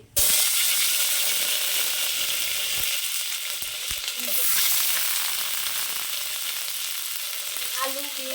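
Cauliflower florets fry in hot oil tempered with cumin seeds, making a loud, continuous crackling sizzle that starts abruptly and holds for several seconds, with occasional scrapes and clinks from stirring.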